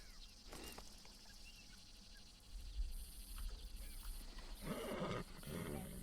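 A horse whinnies and snorts amid a busy Red Dead Redemption 2 game soundscape, with a low rumble and bursts of noise swelling toward the end.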